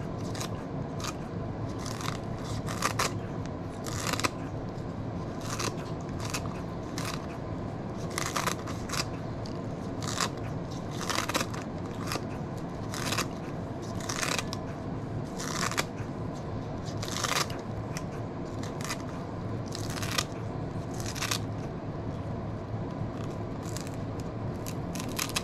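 Vegetables are minced with a knife on a cutting board before dehydrating, producing steady rapid chopping taps close up over constant background noise.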